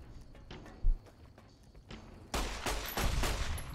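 Gunfire in Fallout: New Vegas, a faint shot early on, then a burst of rapid, loud shots in quick succession near the end.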